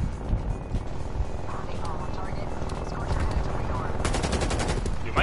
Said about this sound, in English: My turret is going off.